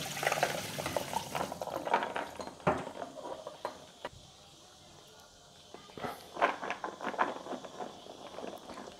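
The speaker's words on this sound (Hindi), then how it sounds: "ओवरनाइट बादामों को भिगो कर रखने के बाद अब हम इसको निथार लेंगे" Overnight-soaked almonds are drained, with water splashing and trickling in uneven bursts, quieter stretches between them, and a few knocks from handling close by.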